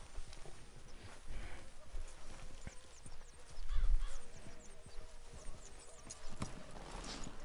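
Rhythmic horse hoof clip-clops in Red Dead Redemption 2, steady and moderately close, with game ambient noise and a brief louder thump midway.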